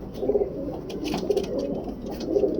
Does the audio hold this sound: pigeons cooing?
yes